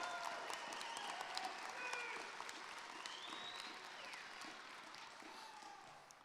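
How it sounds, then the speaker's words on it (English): A graduating high school class and their families applaud at a commencement ceremony, sustained crowd clapping heard from a distance in a large space, steady and then easing slightly, with no speech. "Can you give yourselves a big round of applause?"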